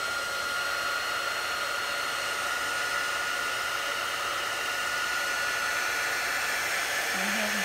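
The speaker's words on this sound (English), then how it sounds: "I do have my... heat gun out, so sorry if the noise bothers you." A heat gun blows hot air for embossing on a painted journal page, a loud, steady, close whooshing roar that holds unbroken throughout.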